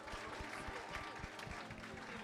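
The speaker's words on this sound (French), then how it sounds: "Applaudissez pour la technique aussi." A worship concert audience claps for the technical team, continuous crowd applause at moderate distance with faint murmuring underneath.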